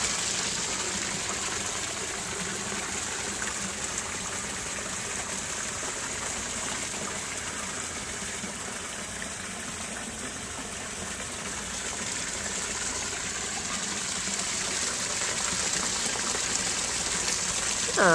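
Water pours steadily over a backyard pond waterfall, a continuous close rushing and splashing that stays even throughout with no voices.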